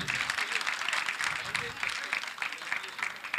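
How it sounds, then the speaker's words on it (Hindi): Audience applause at a media festival ceremony, a steady, fairly distant wash of many hands clapping, with faint voices mixed in. "तालियां रुकनी नहीं चाहिए"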